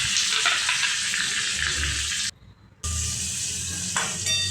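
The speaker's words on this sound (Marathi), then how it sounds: "बघा, कांदा भाजून घेऊयात." Chopped onion sizzles and fries in hot oil with cumin and mustard seeds for an eggplant bharta, a loud, steady crackle broken by a brief half-second lull before it resumes.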